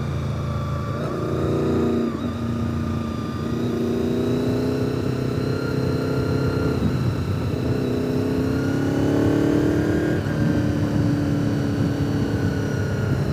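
Steady motorcycle engine drone while riding the winding Deals Gap road from the Foothills Parkway, holding a loud, continuous tone with gentle pitch rises and falls as the bike works through the curves, no talking.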